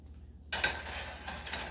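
Dishes and cutlery clink briefly as cooked shrimp is plated in a home kitchen, a quiet hum followed by a few close metallic taps and scraping.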